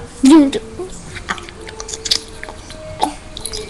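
Someone chews a hamburger close to the microphone, wet squishy bites and mouth sounds scattered over a few seconds, with a short hummed vocal sound at the start.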